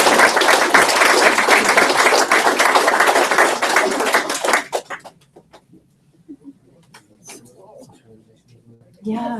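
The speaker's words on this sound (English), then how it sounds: "A round of applause" A burst of loud clapping from a sizeable crowd at a tech event in Galway lasts about five seconds, then fades into quiet room noise and a few stray sounds.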